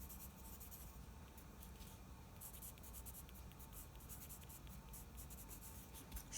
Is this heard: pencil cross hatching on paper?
yes